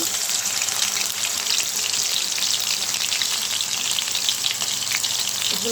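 Onion paste frying in hot oil in a kadai gives a steady, close sizzle with dense crackling that runs without a break from start to end.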